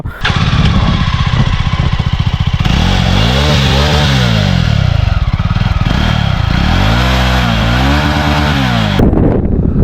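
A Jawa 300 motorcycle engine with dual silencers revving hard, loud and close, its deep thudding exhaust rising and falling through several throttle blips before cutting off at the end.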